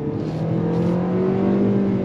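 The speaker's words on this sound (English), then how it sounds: "But let's go on throttle again." A 2025 Nissan Kicks SUV accelerates on throttle, its engine drone heard from inside the cabin rising steadily in pitch and loudness with no talk over it.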